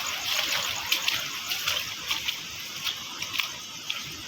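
Rainwater running off and draining after a heavy downpour, a steady splashing trickle with small intermittent splats, close and moderately loud with no talking.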